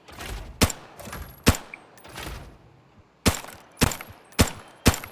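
Single shots from an M16 rifle in the shooter game Arena Breakout, seven or eight sharp separate cracks at an uneven pace, with short gaps and one longer pause. Each crack is loud and close.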